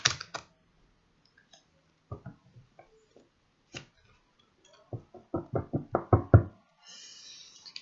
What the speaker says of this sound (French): je vais un petit peu mieux les mélanger